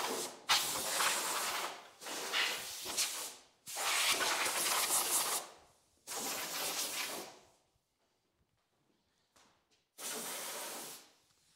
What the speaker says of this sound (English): poke the spray gun in there and just swing it backwards and forwards and spray a bit of paint in there